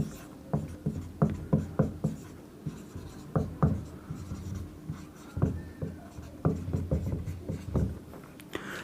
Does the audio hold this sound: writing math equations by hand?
yes